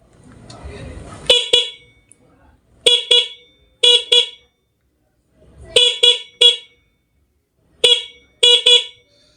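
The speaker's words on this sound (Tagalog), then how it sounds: "At magpapasing tayo na may busina." Repeated car horn honks through a newly wired passing switch, mostly in quick pairs and triplets spaced across several seconds, loud and close, after a brief stretch of low engine rumble.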